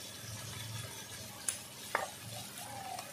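Brahmi greens with prawns and turmeric get stirred in a frying pan, a soft sizzle under scraping spatula strokes with a couple of sharp clicks of metal against the pan.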